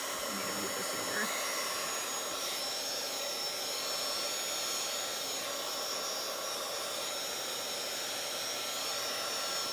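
Hair dryer blowing steadily on wet paint in a Bible journal, a constant close whooshing roar that holds at even loudness throughout.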